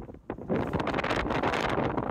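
Heavy wind buffeting the microphone, a rumbling, roaring gust that builds after a brief softer start and stays loud to the end.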